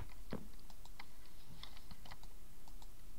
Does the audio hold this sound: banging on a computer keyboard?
yes